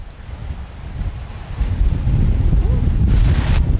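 Strong headwind buffeting the microphone on an open golf course, a steady rumbling gusty roar that builds louder after the first second and a half and stays heavy, with no talking.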